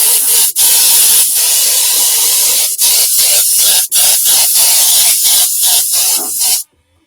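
An airbrush sprays paint in a loud, steady hiss broken by several short pauses as the trigger is released and pressed again, ending abruptly in silence.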